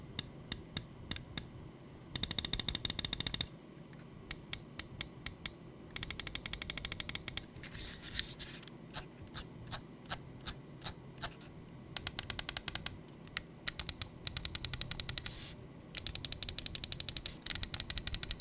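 Rapid Lamzu Atlantis Mini 4K gaming mouse button clicks come in bursts and short runs, crisp and close, with brief pauses between groups.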